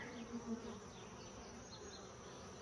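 Honey bees buzz around Layens hives in a steady, faint swarm drone, with a few individual bees passing close.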